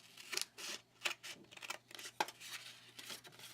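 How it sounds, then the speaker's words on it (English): Scissors cut out a piece of paper card close up in a quiet room, giving a series of soft, uneven snips and slicing strokes, several crisp, spaced over a few seconds. "Then I'm going to cut this one out"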